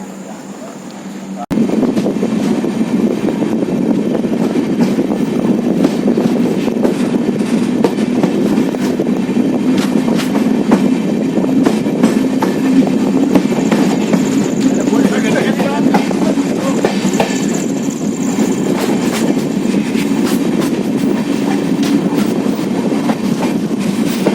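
The Bandra–Madgaon Express rumbles steadily along a single-line track in Konkan, with a continuous loud clatter and rattle, starting abruptly after a brief quieter moment and holding for the rest.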